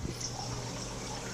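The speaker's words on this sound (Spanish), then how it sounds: "Ahorita voy a abrirle el agua para que vean cómo es que está tirando el agua ya sin la llave puesta" Water from a faulty, leaking Delta shower valve, running with the handle removed: a soft, steady hiss and trickle, fairly faint and continuous, with no voices.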